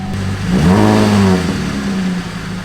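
A car engine revs up and settles into a low, throaty idle, loud and close, with no talking.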